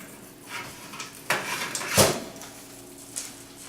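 Butternut squash pan pulled from a kitchen oven, with a few close metallic clanks and scrapes of the pan and rack, the sharpest knock near the middle, no talking.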